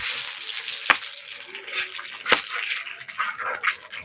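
Dried red chillies, bay leaf and five-spice hit hot mustard oil in a village kitchen, producing a loud, bright sizzling hiss broken by a couple of sharp snapping pops.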